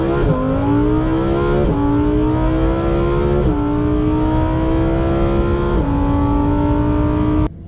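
A Lamborghini Huracan's engine held at high revs under launch control, loud and close, its pitch stepping up and dropping back in repeated surges before cutting off abruptly at the end.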